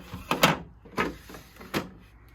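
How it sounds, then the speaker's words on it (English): Plastic Flambeau toolbox drawers slide open in three separate scraping pulls, evenly spaced and close by, with quiet pauses between them. "All these drawers in here."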